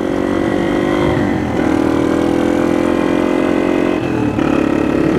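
A motorbike engine revving during a power wheelie attempt, loud and close, holding a steady drone with two shifts in pitch as the throttle changes, no talk.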